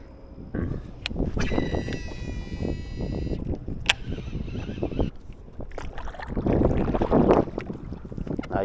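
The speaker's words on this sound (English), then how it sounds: "Now usually I like to stand up like this and paddle." A kayak angler stands and paddles through shallow marsh water near Port Fourchon, with splashy paddle strokes and hull sloshing up close, wind buffeting the microphone throughout.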